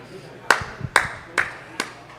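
A handful of sharp, distinct claps at a LAN esports event in Windsor, Ontario, land roughly twice a second, close and crisp against a quiet background.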